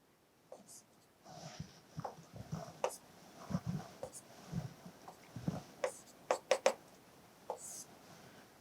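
Marker or chalk strokes on a board while an integral is being solved, heard as irregular scratchy taps and short squeaky strokes, faint and close, with a pause between bursts of writing.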